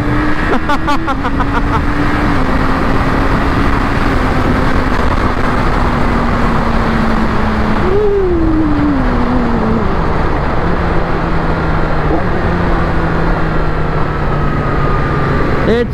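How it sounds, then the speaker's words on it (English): A 2020 Yamaha R6 motorcycle on its stock exhaust runs loud and close throughout, a steady engine drone with a brief rise in pitch midway, mixed with road and wind noise. "Namnamin ang stock exhaust."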